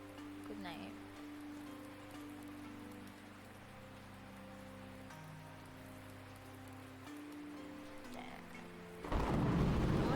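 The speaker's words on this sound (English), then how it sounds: "Can you at least wait until it stops raining?" Rain and thunder in a video game, a steady patter of rainfall running throughout under game music, with a loud rumbling burst of thunder near the end.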